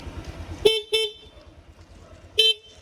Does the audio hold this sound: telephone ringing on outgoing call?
no